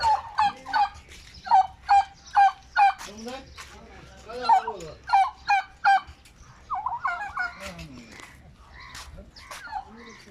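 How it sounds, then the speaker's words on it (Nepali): Turkeys gobble in a rapid series of loud, close bursts, a regular run of repeated calls followed by a more scattered stretch of gobbling, with faint background noise and no talk. "यहाँ रहेछ नि टर्की।"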